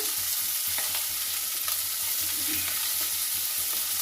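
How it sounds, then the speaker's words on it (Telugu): Brinjal (eggplant) pieces frying in oil in a pan give a continuous, hissing sizzle with faint clicks of stirring, steady and moderately quiet, with no voices. "కొంచెం ఇలా వేపుకోవాలి."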